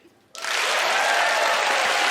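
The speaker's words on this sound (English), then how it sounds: "by a show of applause, how many people here have ever been to New York City?" Studio audience at a magic show bursts into applause after a brief quiet moment, quickly swelling into loud, sustained clapping that holds to the end.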